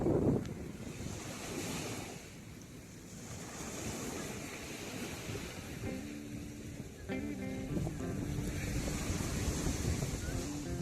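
Sea waves rolling in at Tiruchendur beach, a continuous broad wash of surf with wind buffeting the microphone, steady and fairly loud with no talk.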